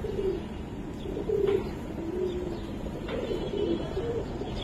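Soft, low coos from Giribaz pigeons at a loft repeat several times over a constant background hum, fairly close and gentle.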